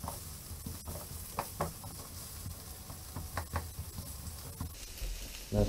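Vegetables fry in sesame oil, a soft steady sizzle with scattered crackles and occasional stirring taps, fairly quiet and close.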